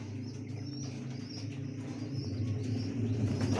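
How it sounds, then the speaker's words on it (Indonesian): Pigeons in a coop coo softly and steadily, with faint chirps and some rustling among the birds. "Hari ini kita masuk lagi ke kandang merpati."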